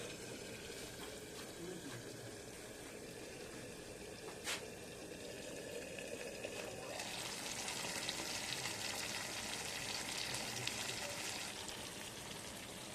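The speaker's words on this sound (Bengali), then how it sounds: "এখন মাছগুলো ভাজা হবে," Pangas fish pieces fry in hot oil under a lid, giving a faint, even sizzle that turns brighter and hissier partway through.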